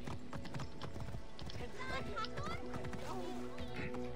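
Horse hooves clip-clopping in the video game Assassin's Creed Origins, a steady walking rhythm of close hoof falls with a brief whinny, under faint ambient game sound.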